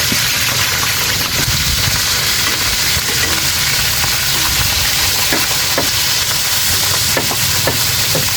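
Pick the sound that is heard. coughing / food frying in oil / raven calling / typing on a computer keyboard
food frying in oil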